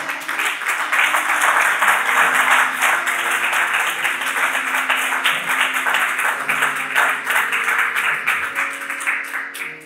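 A church congregation applauding and cheering to acclaim Jesus during a sermon, loud dense clapping sustained throughout with voices shouting within it, fading slightly at the end.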